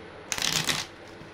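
Tarot cards are shuffled in one quick riffle, a soft papery burst of about half a second, close and fairly clear against a faint background hum with no talk.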